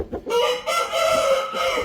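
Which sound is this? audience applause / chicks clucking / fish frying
chicks clucking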